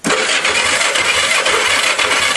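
A go-kart engine being cranked over by a starter, loud and close with a rapid rhythmic chugging that runs steadily through the whole stretch without catching.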